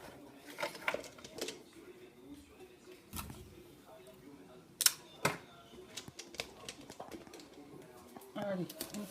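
Crackling rips and short bursts of adhesive tape pulled off a roll to seal a plastic bottle over a pumpkin-squash seedling, with a voice talking between the pulls, close to the microphone.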